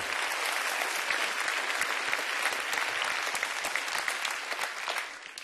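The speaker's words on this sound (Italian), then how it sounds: "un applauso ai tecnici ragazzi" Studio audience on an Italian comedy show clapping for the technicians; a dense, even wash of applause holds steady throughout and tapers slightly at the close, with no voices over it.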